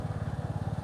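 A motorcycle engine pulses with a steady, rhythmic low thrum while riding through Jaipur forest, moderately close with no talk.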